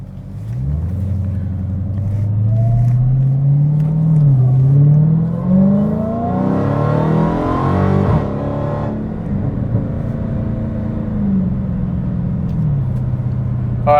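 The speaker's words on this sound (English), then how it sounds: "this exhaust is not stock. I did swap out the mid mufflers with the little Dynamax race bullets" A Hellcat Challenger with a cold air intake and Dynamax race bullet mid mufflers revs loudly up close, its exhaust note climbing through several rising sweeps before settling back to a deep idle rumble.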